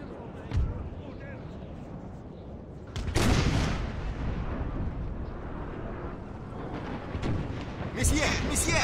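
Cannon fire booms in the Napoleon Total War battle game, a few heavy blasts with rumbling tails, one strong burst midway and another near the end, while someone talks over the battle.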